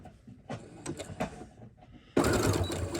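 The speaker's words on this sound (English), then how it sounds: "Back stitch a little bit" A sewing machine back stitching a seam gives a few short, jerky bursts, then breaks into a louder continuous run in the last second.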